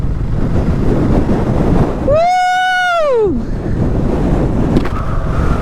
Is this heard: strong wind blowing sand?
yes